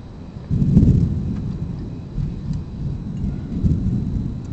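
Thunder rolling during a heavy storm over Peterborough, Ontario, with a deep rumbling swell early on that fades into lower, continuing rumbles under a steady wash of rain, heard from a distance.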